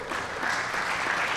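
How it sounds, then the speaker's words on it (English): Brief burst of audience applause at a citywide community safety meeting, a steady, moderately loud patter of many hands clapping with no pause. "Give him a round of applause."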